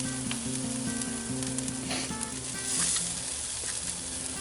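Chicken wings searing on a hot grill, a steady close sizzle and crackle of fat on skin, with no one talking.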